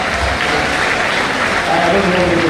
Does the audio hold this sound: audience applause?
yes